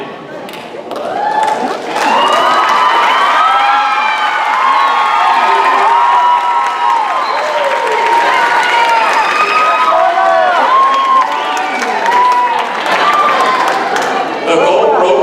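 Graduation ceremony audience for a high school class of 2017 breaks into sustained applause and cheering, a loud continuous crowd roar with shouts and whoops lasting throughout.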